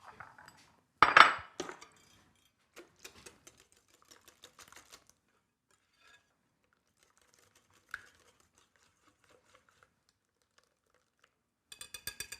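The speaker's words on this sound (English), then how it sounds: "I've got my 2 eggs and a little bit of vanilla. I'm just going to whisk this together by hand." A hand whisk beats two eggs with a little vanilla in a bowl, giving a brisk flurry of close metallic clicking and rattling, then scattered light taps and a final short run of clinks, with no talking.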